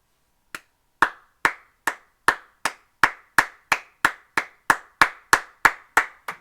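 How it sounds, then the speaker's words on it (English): A single person claps slowly and evenly, about fifteen sharp, close claps spaced roughly a third of a second apart in a quiet room, with no voices. "Round of applause."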